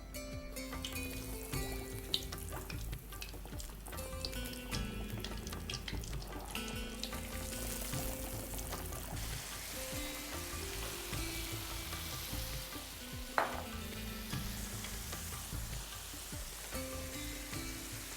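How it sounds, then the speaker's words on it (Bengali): Fish pieces fry skin-side down in hot oil, producing a continuous crackling sizzle under low background music, with occasional sharper pops and no speech. "চামড়ার দিকটা আমরা আগে ছাড়বো তেলে।"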